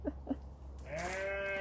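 A ewe on a small farm bleats loudly for her lost lamb, one long wavering call close by that follows a couple of faint soft knocks.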